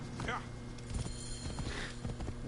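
Horse hooves clip-clopping in the game Assassin's Creed Origins, a quick rhythmic run of hoof strikes at mid distance under a steady background hum, with someone talking over them.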